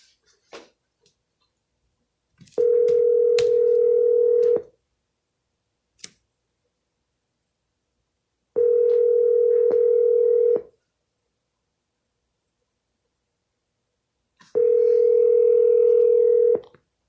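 Telephone line tones on a cold call for real estate listings: three long, steady, evenly spaced tones, each about two seconds with a pause between, clear and alone with no talking.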